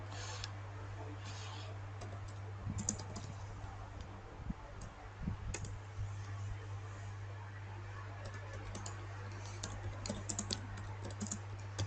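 Continuous light typing on a computer keyboard while configuring network settings, soft scattered key clicks with occasional firmer presses such as the enter key, running over a steady electrical hum and faint room noise.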